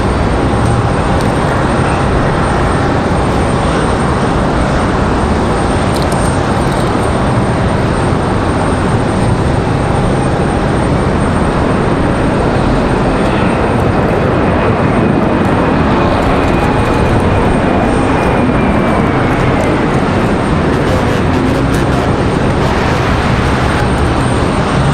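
An Air Wisconsin airliner at Raleigh-Durham airport fills the air with a loud, continuous broadband jet roar that holds steady throughout, with a faint rising whine threading through it and no voices.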